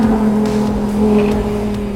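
The ABT XGT, a road car built from an Audi R8, is driven hard around a track, its engine holding a steady, loud drone close by for a couple of seconds, with no talk.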